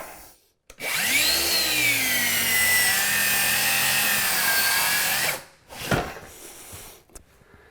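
A corded saw cutting through wood for a budget mudroom bench, one loud steady whine of about five seconds with a slight pitch sag under load, then stopping, followed by a few short knocks and handling sounds.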